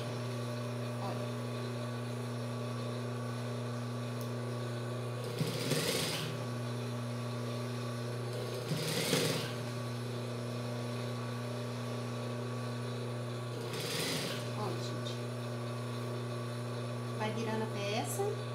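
A sewing machine stitches a seam on children's shorts with pockets, running in three short bursts with pauses between, over a steady low background hum.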